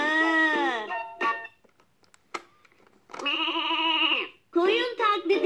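A Fisher-Price activity table toy plays a voice imitating a sheep's bleat, a wavering synthetic baa heard twice, close and clear, with a brief spoken bit from the toy in between.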